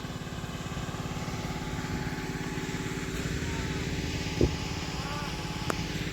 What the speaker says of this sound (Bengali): ওদিকে ভাইব্রেটার চালানোর জন্য আবার জেনারেটর স্টার্ট করেছে।